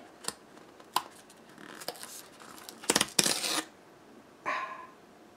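TurboTax 2023 Home & Business software box being peeled open, a series of close crinkling, tearing and snapping bursts of packaging, some quick clicks followed by a longer rip, with no talking.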